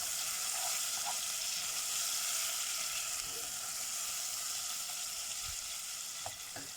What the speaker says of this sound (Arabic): وايه بالراحة كده هنحرك معانا الصوص كده بالشكل ده